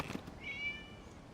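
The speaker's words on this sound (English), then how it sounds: "It was just a cat." A cat in the video game Genshin Impact lets out a single short, faint meow against a quiet background, after a couple of soft taps.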